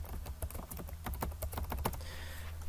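Quick, steady clicking of keys on a computer keyboard while credit card details go into a checkout page, close and crisp for a few seconds with no talking.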